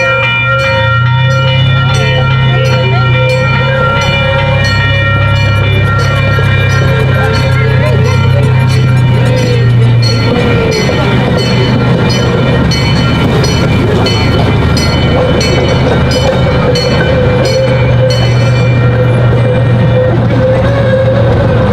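A small zoo train rolls steadily along a service road, giving a loud continuous engine drone and hum with a faint rattling clatter throughout and no break.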